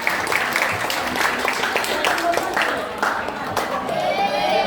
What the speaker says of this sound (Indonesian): Sekali lagi dong tepuk tangan